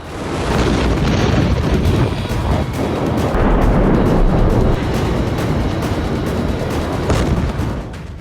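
A massive, sustained roar of the Beirut explosion rumbles continuously with deep low-end power, loud and dense throughout, no voices.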